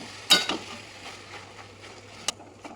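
Soybean mince stirred with tomato and onion in a pan: a few sharp metallic spoon clinks against the pan over a low, steady sizzle.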